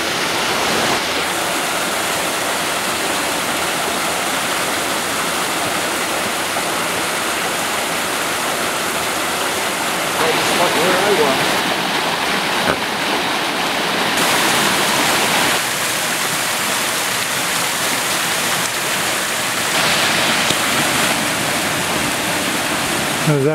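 Walton Brook cascades down a series of small falls in a constant, loud, close rush of broadband water noise that holds steady throughout, swelling slightly partway through.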